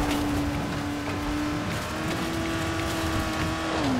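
A buggy revs hard across the zombie-game world of Dying Light, its engine droning steadily and loudly with a shifting pitch as it slides into a skid, tyres scrubbing near the end.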